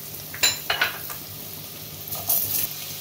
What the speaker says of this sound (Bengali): আলুগুলো দিয়ে একটু ভেজে নেব।